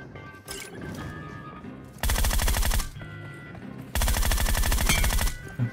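Two long bursts of rapid automatic gunfire in a shooter video game, each about a second of dense, loud repeated shots, separated by quieter game ambience and background activity.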